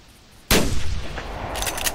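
A single sharp rifle shot rings out in the hunting video game theHunter Classic while stalking red deer, a sudden loud blast after quiet ambience, followed by a decaying rumble and some brighter rustling noise.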